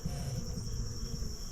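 Honeybees swarm thickly inside an opened hive during an early-October inspection, giving a continuous close buzzing drone that holds steady throughout.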